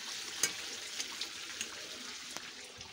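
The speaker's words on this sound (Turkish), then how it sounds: "Şöyle biberlerimizi kızartıyoruz." Peppers fry in a pan for a village breakfast, with a steady sizzle and scattered small pops and crackles close by.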